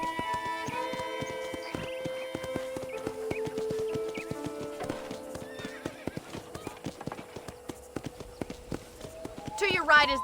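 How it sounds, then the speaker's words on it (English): A horse ridden on a ranch in Red Dead Redemption clip-clops along at a steady trotting rhythm, with a harmonic game music or voice bed underneath and a loud whinny near the end. "let's see if you can still ride a horse"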